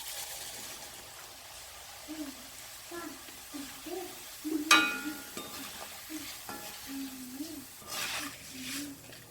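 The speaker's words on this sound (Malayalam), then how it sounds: "വെളിച്ചെണ്ണയിലേക്ക് കുറേശ്ശെ അവിലിട്ട് വറുത്തെടുക്കുക" Flattened rice (avil) fries a little at a time in hot coconut oil, a soft steady sizzle broken by repeated stirring scrapes and one sharp clatter, quiet and close.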